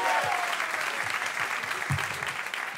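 A live comedy audience applauds a departing guest on Richard Herring's Meaning of Life show, a bright, steady round of clapping with a faint low voice or cheer briefly rising within it.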